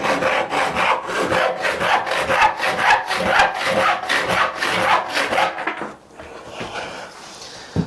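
A hand saw, a panel or crosscut type, rasps through wood in a steady back-and-forth rhythm of close, repeated strokes for about six seconds, then stops.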